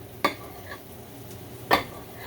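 A knife slicing through a block of tofu on a board: two crisp separate cuts, each a sharp short tap against quiet kitchen background, close and clear.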